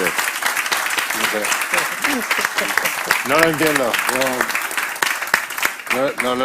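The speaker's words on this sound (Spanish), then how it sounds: "yo quiero aprovechar también para dar un aplauso" An audience at a conservative political event applauds in dense, steady clapping while someone speaks loudly over it.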